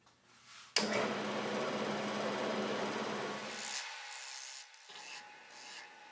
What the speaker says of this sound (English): I'm using a half-inch bowl gouge to clean up the bottom of this bowl.